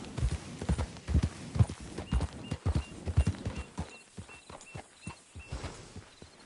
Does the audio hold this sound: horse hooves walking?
yes